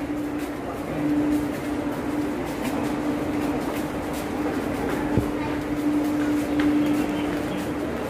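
Train 16732 rolls between Madurai and Virudhunagar, a steady rumbling hum with a droning tone running throughout, heard from onboard at an even level with faint clatter and no clear speech.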